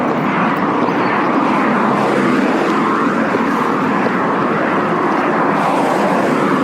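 An airplane approaching to land at Faro airport, a steady broad engine roar that stays loud and close throughout, with no talking.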